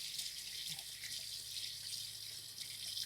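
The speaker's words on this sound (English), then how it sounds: "I'm going to rinse off my beaters because we're about to use them for another application." Kitchen tap water running steadily while electric mixer beaters are rinsed under it, a soft hissing splash with faint clinks, fairly quiet and with no voices.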